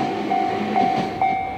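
A train rolls along a railway near Kanazawa, passing vegetable gardens, rice paddies and homes; a steady nearby rumble carries a sustained tonal hum with brief swells, and no voices are present.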